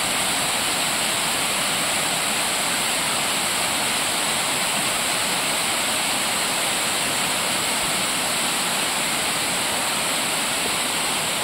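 A constant, roaring rush of a river waterfall during rains, dense and loud without pause, heard up close.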